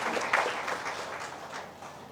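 An audience at a political party workers' meeting breaks into steady clapping, a dense, moderately loud patter of many hands that holds for about two seconds.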